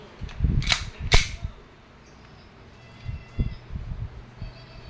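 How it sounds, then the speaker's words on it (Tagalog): A WE 2011 Hi-Capa T-Rex airsoft pistol fires two sharp, close semi-automatic shots in quick succession, followed by quieter handling clicks. "2011 High Kappa T-Rex semi-automatic. This is airsoft pistol."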